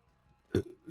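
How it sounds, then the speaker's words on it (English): A single short, soft burp from a person, brief and close, with a faint trailing voiced sound after it in otherwise quiet surroundings. "I keep burping."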